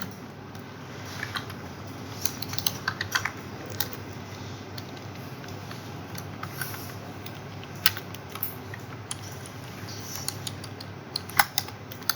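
Keys clatter on a computer keyboard as code is entered for a Matplotlib colour-map plot, quick irregular bursts of light taps spread across the whole stretch over a steady low room hum, with no one speaking.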